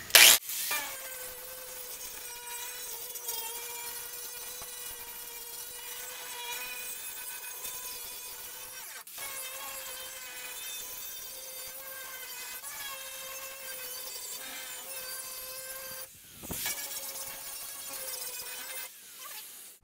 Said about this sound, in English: Okay, I got a metal grinding disc